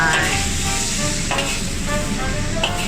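Cabbage stir-frying in a hot pan for vegetable spring roll filling: a steady, loud sizzle and hiss runs throughout with occasional scraping stirs, and a voice talks softly underneath.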